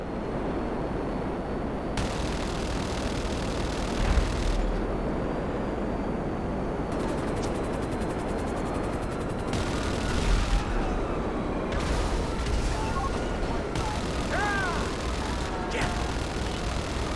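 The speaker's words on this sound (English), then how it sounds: "These are very strong, non-explosive machine guns that can still do damage" Rapid bursts of heavy machine-gun fire from the Raiju jet's non-explosive guns in GTA Online, several separate volleys over a steady jet roar, loud and close.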